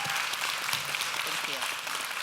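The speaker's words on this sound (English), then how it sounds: "Give them a round of applause." An audience at a talk on building diverse and inclusive communities applauds, a dense, sustained wash of clapping with voices mixed in underneath.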